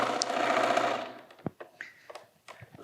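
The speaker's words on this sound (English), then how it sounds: "Let's sew this last seam then." A sewing machine runs a quilt seam in a rapid, close buzzing burst lasting about a second, then stops, followed by scattered soft clicks and handling noises of fabric.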